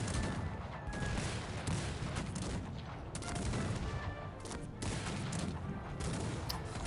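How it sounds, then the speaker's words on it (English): Cannons and massed musket fire in a Cossacks 3 real-time strategy battle: dense, continuous volleys of booming shots that overlap steadily throughout with no pauses and no speech. "And it looks like Detrom has cannons now too. So he has about like six that are firing on Colorfit and Pirate"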